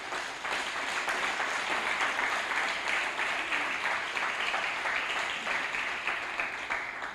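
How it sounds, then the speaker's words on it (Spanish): A church congregation claps together in sustained, even applause that holds steady for several seconds before tapering slightly at the end. "Dele un aplauso al Señor."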